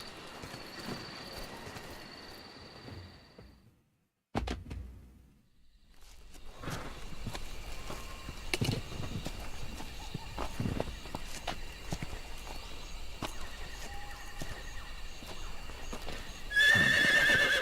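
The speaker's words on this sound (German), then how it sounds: "Habt ihr das Pferd auch gerade gehört?" A horse in a video game whinnies loudly up close amid steady clip-clop hooves, with a brief silent gap, then walking hoofbeats and ambient jungle game sounds continue.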